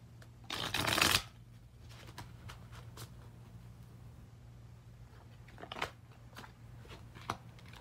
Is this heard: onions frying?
no